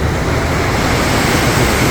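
Dense, loud rushing water spray from a FlowRider surf simulator aboard a cruise ship, a continuous broadband hiss close by, with no voices.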